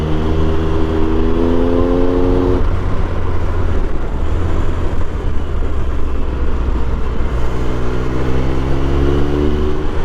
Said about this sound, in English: Sound of that triple engine with that Scorpion cannon just puts a smile on my face every time.